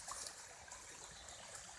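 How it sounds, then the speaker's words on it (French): A small waterfall deep in the woods pours steadily, a continuous hiss of falling and trickling water, faint and unbroken throughout. "Je vous présente une petite cascade, on est quasiment au fin fond des bois"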